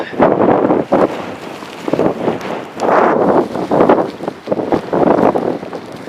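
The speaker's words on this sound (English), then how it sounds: "This wind is pretty cold." Cold wind gusts buffet the microphone on a mountain trail in the Eastern Sierras near Emerson Lake, loud, rough and roaring in uneven surges with brief lulls between them.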